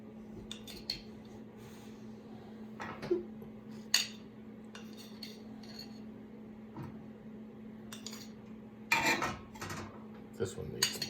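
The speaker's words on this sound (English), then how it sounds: "you need to put butter in here" Butter pieces dropped and pressed into small metal baking tins while making German pancakes, giving scattered light metallic clinks and scrapes over a steady low kitchen hum, with a brief rattle near the end.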